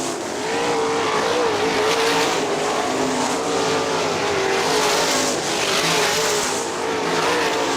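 Sprint cars race around the dirt oval at Kokomo Speedway, a loud continuous engine roar that swells and ebbs as the pack passes, with tires scrabbling on the track.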